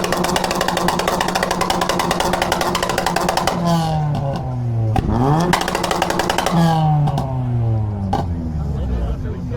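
A 1.5-litre Honda car engine revs hard at a stance car meet for an exhaust loudness test, starting with a steady roar, then several sharp rising blips that drop back each time. Close and loud over crowd chatter.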